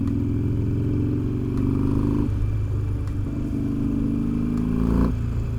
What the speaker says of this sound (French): Là, normalement, on va bien entendre l'échappement.